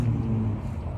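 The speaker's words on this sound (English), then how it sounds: "You can hear all the cars in the background." A car rumbles past on a street at night, a low engine hum with a brief rise in revving, fairly close and steady over the short moment, with no talking.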